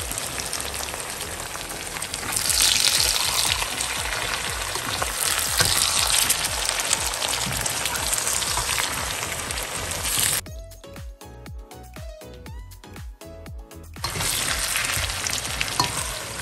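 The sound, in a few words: boiled lamb meat frying in a pan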